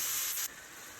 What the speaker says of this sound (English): Here's the cabbage cooking down